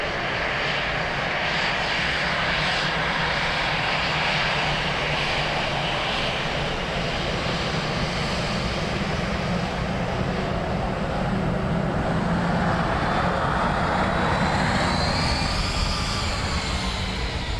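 An Emirates Boeing 777-300 arriving from Dubai lands at Dublin Airport, its steady, loud jet roar filling the air throughout with a rising whine toward the end, heard from a spotting position with no voices.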